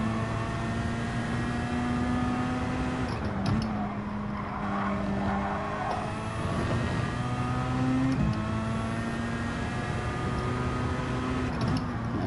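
A race car engine in Gran Turismo 7 holds a steady high-revving drone with shifting pitch, loud and continuous, the engine note rising and dipping through gear changes during a race.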